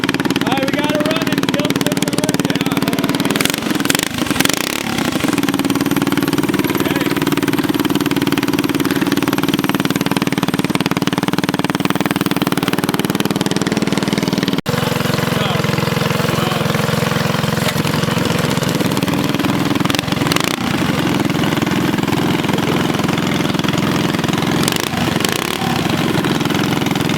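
A twin engine mini bike running at the street drags, a loud continuous mid-pitched engine roar that stays steady for the whole stretch, close up, with brief voices and small fluctuations in the drone.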